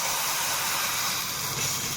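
Water poured into hot oil tempered with cumin and mustard seeds, giving a loud, continuous broadband hiss that fills the whole two seconds without pause.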